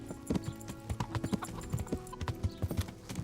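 Horse hooves in the video game Kingdom Come: Deliverance beat out a clear, regular clip-clop rhythm, each hit sharp and close, sounding alone without talk.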